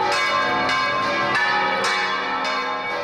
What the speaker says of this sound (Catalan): Les campanes d'Almansa voltegen sense descans